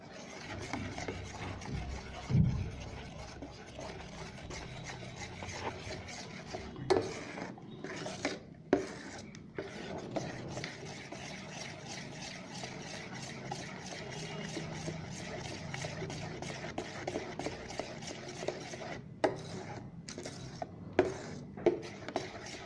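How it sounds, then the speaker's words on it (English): Oil being mixed into chocolate cake batter by hand in a bowl, a steady soft scraping and rubbing that goes on throughout at low volume, with a few light knocks. "Now we mix it up thoroughly. The oil has to be mixed up in this mixture thoroughly."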